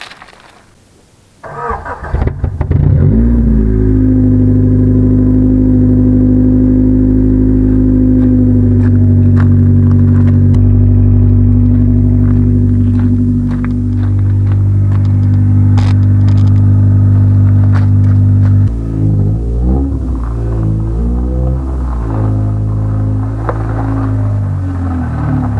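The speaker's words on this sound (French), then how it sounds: "on va faire un démarrage sans le silencieux. Ça va faire du bruit." A Rover 216 GTI engine with the muffler removed cranks, catches and roars loudly, holding a harsh, booming idle before a series of sharp revs near the end, all very close and with no talk.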